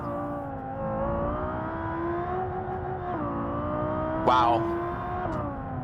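A Civetta Scintilla hypercar engine in BeamNG.drive holds a steady, buzzing drone with a smooth rising pitch. A person briefly exclaims near the end.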